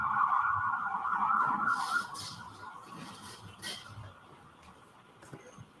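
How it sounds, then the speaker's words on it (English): Faint emergency sirens wail in the distance outside a courtroom, fading in and out as they pass, heard alone without talk. "wait until the sirens pass"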